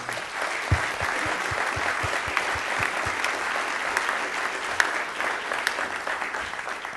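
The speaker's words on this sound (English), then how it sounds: "If you would please join me in a round of applause." Audience at a presentation on digital disruption of the news business breaks into a round of applause, a steady crowd of clapping hands heard fairly close, with a few sharper individual claps standing out and no talking.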